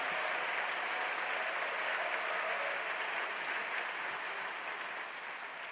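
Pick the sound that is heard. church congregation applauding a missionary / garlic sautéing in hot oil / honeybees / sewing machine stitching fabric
church congregation applauding a missionary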